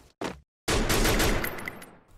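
Gunfire in the mobile battle royale game Free Fire: a short burst, a brief gap, then a loud rapid volley of shots rattling for about a second and a half before trailing off, with no voices.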